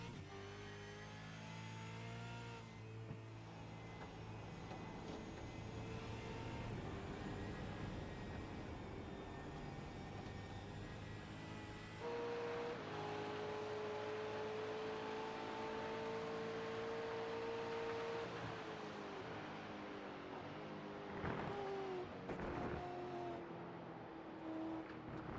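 On-board race car engine in the iRacing video game at Watkins Glen, revving through gear changes with a steady harmonic whine that rises and falls, loud and continuous with no talk.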